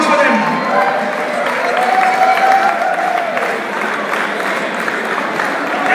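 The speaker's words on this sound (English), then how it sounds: "A huge round of applause for them." Loud crowd applause with some cheering greets the 2011 university cricket tournament champions indoors, a continuous dense clapping that holds steady for several seconds.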